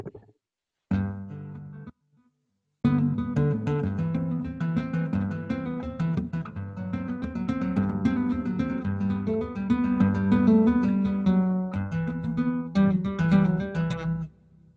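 Solo plucked Stick playing a flowing Bach line, close and clear, after a couple of short opening notes.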